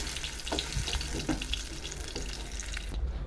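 A fish piece fries in a pan, making a steady, fairly quiet sizzle with scattered soft pops and low kitchen rumble underneath, fading out abruptly at the end.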